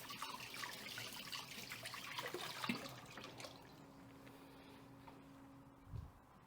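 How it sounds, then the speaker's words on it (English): A messy spoon rinsed under a running kitchen tap, with a steady stream of water splashing for several seconds and then easing, followed by a brief low clunk. "So let me get this rinsed off."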